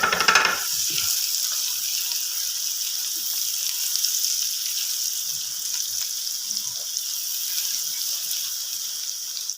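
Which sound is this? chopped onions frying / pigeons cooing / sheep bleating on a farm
chopped onions frying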